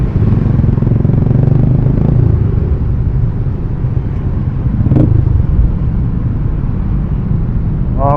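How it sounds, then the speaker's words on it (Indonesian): Dense traffic rumble on a jammed road at Semanggi in Jakarta, with motorcycle and car engines idling and creeping close by in a steady, loud wash, a brief clatter near the middle and a short horn-like tone at the very end. "Oke, ini macet Semanggi biasa."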